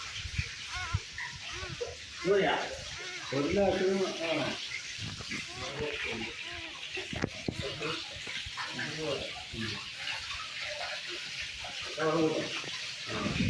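A small model waterfall built inside a house runs with a soft continuous splash and trickle, heard underneath someone talking throughout.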